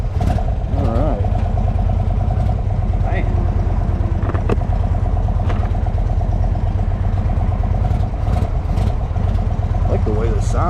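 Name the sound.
2023 Indian Sport Chief motorcycle engine idling, rumbling at a stop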